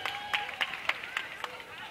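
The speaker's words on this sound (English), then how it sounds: "Let's give her a nice round of applause" Audience applause for singer Kayla Cole after her rendition of a song at a Rye Playland singing competition: a string of sharp, fairly regular claps heard over a background of voices.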